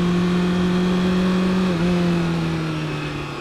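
Cars revving as they pass close to a cyclist on a road, a loud sustained engine drone that holds steady, dips slightly midway and then carries on at a constant pitch, with no voices.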